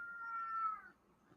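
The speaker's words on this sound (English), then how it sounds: "Smart kitties." A cat meows once, a clear drawn-out call close by in a quiet room, trailing off into faint background.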